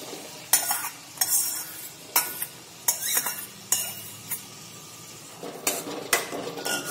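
A spoon scrapes and clinks against a pan while stirring fried cluster beans and potatoes in a Gujarati vegetable curry, with repeated sharp metallic strokes over a soft sizzle.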